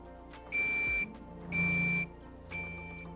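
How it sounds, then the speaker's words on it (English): Three electronic beeps from a Pylontech master battery, each about half a second long, evenly spaced about a second apart, loud and close against a quiet hum. "Those 3 beeps from this master battery over here let us know that it has recognized the communication protocol."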